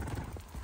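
Horses walk on a hiking path between Eschenbach and Rapperswil-Jona, hooves clip-clopping in a brief, noisy burst amid outdoor rumble.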